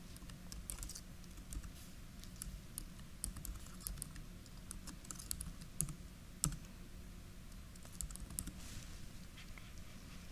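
Typing an email address on a computer keyboard, a quiet run of irregular close key clicks with occasional sharper taps, alone without talk.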